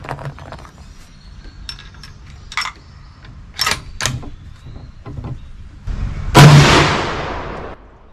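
A Tikka T3X rifle fires a custom hand-loaded 150-grain round outdoors at the range: one sharp, loud report with a ringing tail, after scattered clicks and handling noises.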